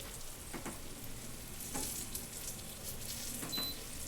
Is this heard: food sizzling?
yes